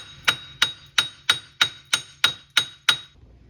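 Hammer blows strike the front wheel hub of a Nissan Altima during a wheel bearing replacement: nine sharp metallic clanks land in an even, steady rhythm, close and distinct, with no talk.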